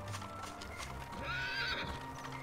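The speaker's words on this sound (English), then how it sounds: "There's a horse." A horse in the Dragon Quest VIII game lets out a high whinny over soft clip-clopping hooves, quiet and brief with no talk.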